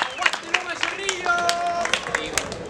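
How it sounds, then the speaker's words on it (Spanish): Crowd at a freestyle rap battle league final claps and cheers in a busy burst of applause, scattered sharp claps over a babble of voices and shouts, moderately loud and close. "¡Brother, un aplauso, macho!"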